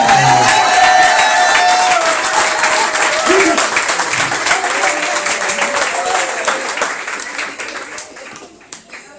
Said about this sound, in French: Acclamez pour mon anglais.